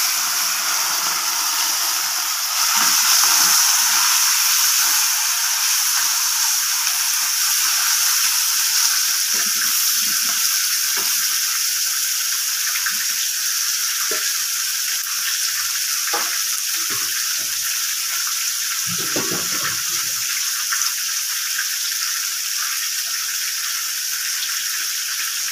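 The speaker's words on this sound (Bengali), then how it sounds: "হয়ে গেছে আমার তেল গরম, এবার দিয়ে দিচ্ছি আমি মাছটা" Small mourola fish frying in hot oil, a steady dense sizzle and crackle lasting throughout, close and loud, with occasional light clinks and spatters.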